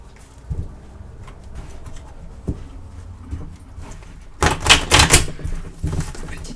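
Tarot cards being shuffled and drawn, a few soft isolated flicks early on, then a dense burst of rapid riffling clatter toward the end, close up and with no talk.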